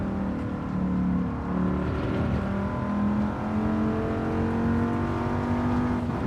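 A race car engine in Gran Turismo 7 drones steadily under lobby racing, with gear changes and rising pitch sweeps as the driver lifts off and gets back on the throttle, loud and continuous throughout.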